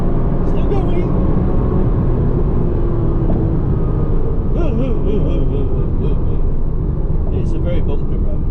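A Porsche Cayman driving on a bumpy private road, its loud, steady engine rumble and road noise filling the cabin, with a voice talking over it at times.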